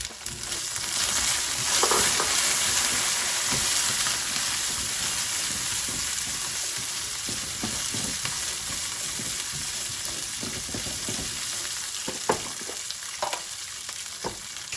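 Cauliflower fries with whole spices in a pan for fried rice, giving a continuous moderate sizzle broken by scraping stirs and occasional sharp clicks, with no talking.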